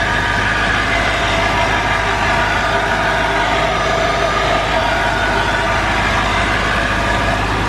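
A Honda Civic engine in an all-wheel-drive Civic wagon GSR build runs at a steady, loud, close idle, a continuous dense rumble with no pauses and no voices.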